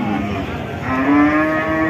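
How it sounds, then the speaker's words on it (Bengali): Bulls among a group of cattle being readied for Qurbani moo loudly, one long low bellow rising in pitch and holding steady, heard close by with no talking. "দেখুন দর্শক কত সুন্দর সুন্দর গরু সবগুলোই ষাড় গরু"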